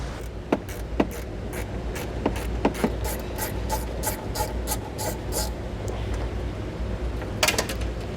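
Screws being removed from the threshold panel of a 2020 Ford Escape: a series of quick ratcheting clicks and mechanical ticks, close and moderately loud, with no talking.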